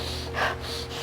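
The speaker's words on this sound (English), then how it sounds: "Take a deep breath as you wait." A single deep breath drawn in, a short breathy gasp rising and fading within about a second, close and fairly soft with a steady low hum behind it.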